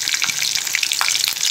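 Green chillies frying in hot oil with cumin seeds for an egg-and-rice lunch, a steady loud sizzle broken by sharp crackles and pops throughout.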